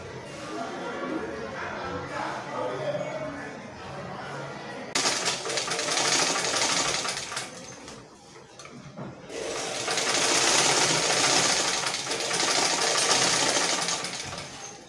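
Sewing machine stitching the side seams of children's Ankara print joggers with a half-inch allowance, running in two long loud bursts with a short pause between, while a voice talks over the motor.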